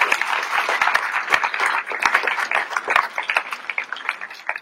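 Audience applauding at a general assembly meeting in Ploërmel, a lively burst of many hands clapping in an indoor hall, close and loud with irregular sharp claps, tapering slightly toward the end.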